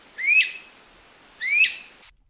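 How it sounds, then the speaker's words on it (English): Two loud, drawn-out whistled weep notes from a flycatcher, each rising sharply and then sliding down in pitch, separated by about a second of quiet, heard clearly and alone with no other sounds. "The most characteristic call of this species is a loud whistled weep note"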